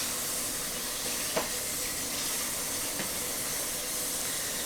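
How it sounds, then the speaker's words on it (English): Water pours steadily into a colander of soaked fenugreek seeds, a continuous close hiss with a couple of faint knocks. "And then we'll just put water into it."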